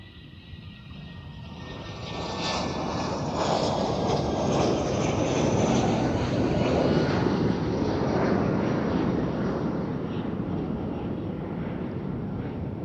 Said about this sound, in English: A380 departure.